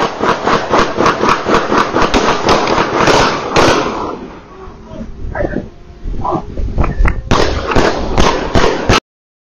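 Rapid bursts of automatic gunfire crackle in quick repeated volleys, loud and close, with a brief lull in the middle before another burst.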